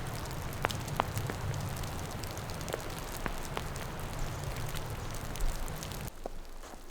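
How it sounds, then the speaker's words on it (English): Snow melting off trees in the Washington backcountry in morning sun drips steadily like light rain, a soft continuous patter with scattered nearby drops and no voices. "So now it's almost like it's like a light rain."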